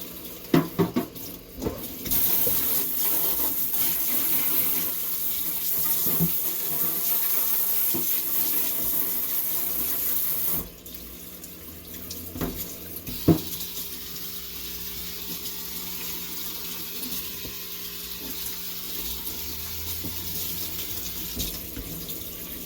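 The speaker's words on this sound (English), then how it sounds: "I'm going to rinse it out in my sink" Kitchen sink tap running steadily while a container is rinsed out, a continuous close hiss of water for about ten seconds, then quieter splashes and clatters as the flow changes.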